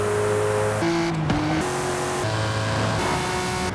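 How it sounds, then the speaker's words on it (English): Car engines from the racing video game Forza drone and rev steadily, pitch stepping up and down as gears shift, loud and continuous with no voices. "I was playing Forza and wow, I'm talking about those engine sounds."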